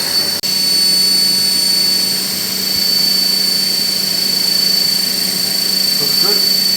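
A CNC machine runs a toolpath with a flat end mill, giving a steady, loud high-pitched spindle whine with a constant hum that holds throughout, apart from one brief dropout near the start.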